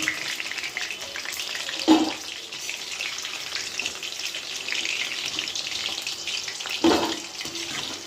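Food sizzling as it fries in a pan in a home kitchen, a steady close hiss with a couple of brief clatters as pieces are handled.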